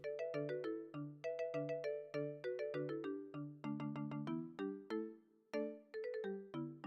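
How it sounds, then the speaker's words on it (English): A bright, bell-like Chinese-style ringtone plays a plucked, pentatonic melody of quick repeated notes, clear and loud, with a brief gap near the end before it resumes. "Is this the Chinese tone ringtone you use?"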